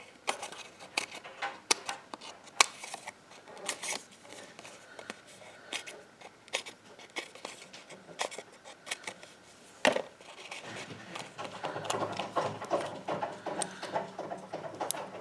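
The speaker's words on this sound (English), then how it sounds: "And I'm going to cut even more of these." Scissors snip through paper craft pieces for an Easter basket, the small crisp cuts ticking irregularly at close range, quiet and alone with faint rustling.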